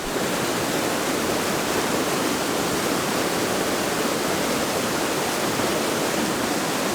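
The Nidumadu waterfall roars in a loud, steady rush of falling water, dense and unbroken from start to finish, with no voices.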